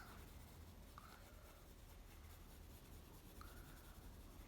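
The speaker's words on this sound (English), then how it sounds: "Using a lighter pencil for the lighter tones and a heavier pencil for the dark" Pencil shading a doll drawing, lighter and heavier pencils alternating over the paper, giving a soft, steady scratching close by under a constant low background hum.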